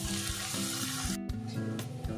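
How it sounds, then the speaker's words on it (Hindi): Onions with green chillies and salt sizzling in a pan, a steady close frying hiss broken by faint stirring knocks. "इससे क्या होगा कि हमारे प्याज जल्दी फ्राई हो जाएंगे।"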